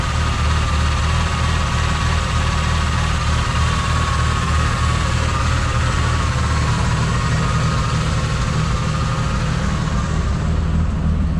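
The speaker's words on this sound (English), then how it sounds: "Engine runs and sounds as it should." A 1973 Ford F-100 4x4 pickup truck engine idles steadily at close range, a continuous low rumble with an even mechanical hum and no voices.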